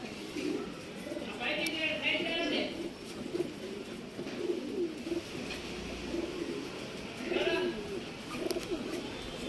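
Pigeons coo repeatedly at a Bengaluru pigeon sale in RT Nagar, with soft throaty calls rising and falling close by over a busy background of voices and faint chirps.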